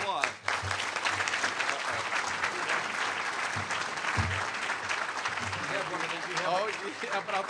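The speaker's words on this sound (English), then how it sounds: "How about a round of applause?" Steady applause from a crowd in a Chicago hall for a city alderman, dense and even throughout, with a brief dip near the start.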